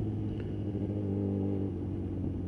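A car engine drones steadily at close range with a low rumbling hum and sustained harmonic tones, held without a distinct rise or fall while the vehicle is downshifted one-handed.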